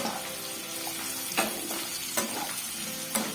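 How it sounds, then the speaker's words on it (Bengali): Vegetables for Ekadashi shyama rice khichuri sizzle steadily in a pan, with a few sharp scrapes of the spoon as they are stirred, close and clear with no talking. "এখন আমি এগুলো একটু ভেজে নিচ্ছি।"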